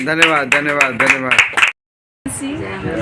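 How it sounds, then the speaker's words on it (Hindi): A church congregation at a Sunday holy communion meeting claps in quick rhythmic bursts beneath a loud voice. A sudden half-second of silence follows, then lower, busier room sound resumes. "प्रभु के लिए तालियां।"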